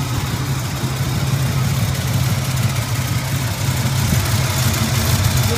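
A 1981 Turbo Trans Am engine idles roughly on a cold start, a steady low rumbling hum with slight unevenness that continues close and unbroken, with no talking.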